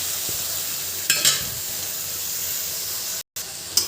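Potato and eggplant are dropped into spice paste frying in oil, producing a loud, steady sizzling hiss with a couple of brief surges of crackle as pieces hit the pan, with no talk.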